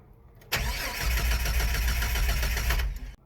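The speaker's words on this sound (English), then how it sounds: "So it doesn't start because it has no fuel pressure" Jeep Wrangler TJ engine cranking without starting due to no fuel pressure, fuel pump relay removed; a loud continuous starter churn begins abruptly and runs for about two and a half seconds before cutting off, heard alone.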